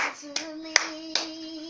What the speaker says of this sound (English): Do me a favor, put your hands together.